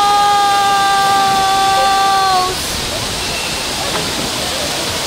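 Tinago Falls roars as a loud, steady wash of falling water throughout, with a sustained tonal sound riding over it during the first half.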